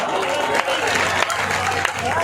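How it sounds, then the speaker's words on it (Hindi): Audience applause at a Hindi poetry gathering, with continuous crowd clapping and murmur, loud and close, mixed with voices in the room. "तालियां बजाइए एक बार लोग"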